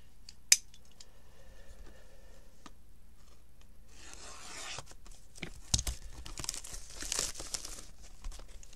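Panini Prizm football card packs being torn open, with a sharp snap early on, then close, dense crinkling and ripping of foil wrappers that grows busier over the last few seconds.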